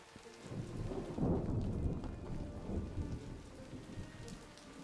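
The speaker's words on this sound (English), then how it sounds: "It was just raining, now it's stormy." Rain pours steadily while a deep roll of thunder swells and fades, then rumbles on quietly beneath the downpour.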